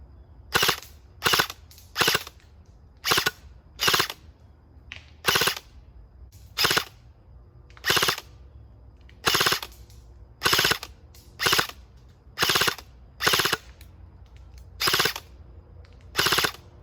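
Sharp single shots from a Cybergun FN M249 Para airsoft gun fired at an outdoor target 100 feet away, about twenty evenly spaced pops working through a full magazine, crisp and close with no talk.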